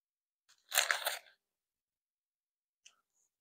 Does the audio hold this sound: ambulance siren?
no